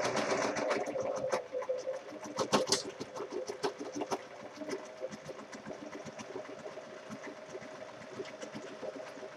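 Sewing machine stitching a fabric face mask with a very fine stitch, rapid mechanical needle clatter in uneven bursts, fairly quiet and close, with no talking.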